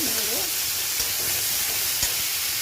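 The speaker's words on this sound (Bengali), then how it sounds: "বিনস, গাজর আর 2-4 টুকরো আলু দিয়েছি, ভেজে নেব" Beans, carrot and a few potato pieces fry in hot oil for a vegetable dalia khichdi. A steady, loud sizzling hiss continues throughout, broken by a couple of faint knocks of stirring.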